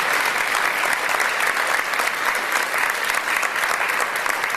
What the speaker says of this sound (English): Let's give my assistant a nice round of applause.